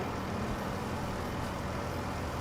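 A truck drives in the farming game Farming Simulator 25, its engine giving off a steady, dense rumble with no talk over it.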